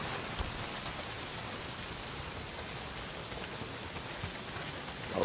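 Heavy rain pouring down in the video game Days Gone, a dense, steady hiss that fills the whole stretch with no voices.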